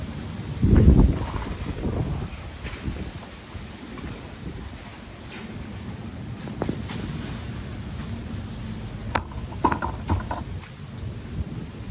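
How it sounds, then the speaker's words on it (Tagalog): Outdoor wind blows steadily in a broad rushing wash with low rumbling gusts buffeting the microphone, punctuated by a few brief knocks. "Hangin na."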